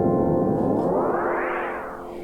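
A Meris LVX modular delay pedal set to sine wave modulation trails off in a smooth echoing wash whose pitch sweeps up and then back down, fading gently with no talking.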